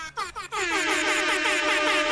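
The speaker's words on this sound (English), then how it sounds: "Let's get some final air horns for the stream." A few short horn blasts followed by a long, sustained blaring air horn tone, loud and buzzy, with no talking.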